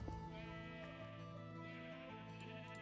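A brown sheep bleats in a video game, a single drawn-out, wavering bleat heard up close and clear with no talk over it.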